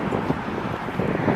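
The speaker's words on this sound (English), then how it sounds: "It's bitterly cold and windy," Cold, gusty wind at an outdoor meet-up buffets the microphone in a continuous low rumble for a brief moment, with no other sounds standing out.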